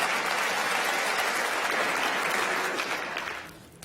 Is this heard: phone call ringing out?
no